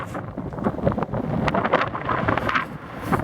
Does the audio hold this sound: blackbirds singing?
no